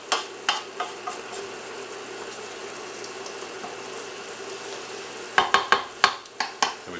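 A sloppy Greek spinach and rice mixture heats toward a boil in a pot, giving a steady soft hiss, with several sharp clinks of a utensil against the pot near the start and a quick cluster of them at the end.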